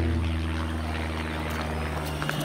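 A steady engine drone hums throughout, like a propeller aircraft passing at a distance near an airport, with constant low tones and a broad background rumble.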